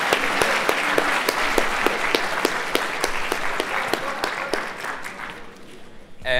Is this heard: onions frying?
no